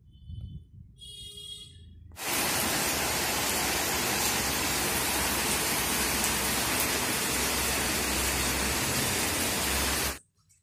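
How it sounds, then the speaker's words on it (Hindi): Heavy rain pours down in a sudden, dense, constant roar that starts after a quiet opening and cuts off near the end. "तो ये आप देख सकते हो कितना तेज़ पानी गिर रहा है इस वक्त।"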